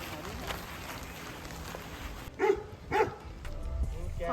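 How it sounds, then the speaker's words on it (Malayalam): A dog at a hill-station stay in Munnar, Kerala gives two quick, fairly faint barks close together over a quiet background. "പട്ടിയുണ്ട്."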